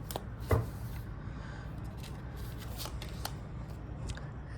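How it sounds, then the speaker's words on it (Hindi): Tarot cards being shuffled and one drawn, a brief riffle and papery slide near the start followed by soft handling sounds close by, with no talk. "तो आइए पहला कार्ड निकालते हैं।"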